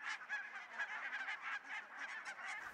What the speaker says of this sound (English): Islay is also home to thousands and thousands of barnacle geese